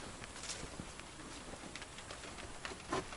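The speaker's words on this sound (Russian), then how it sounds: "О, слышите, как идет дождь?" Steady soft patter of rain falling outdoors, a continuous faint hiss with scattered small taps, no voices.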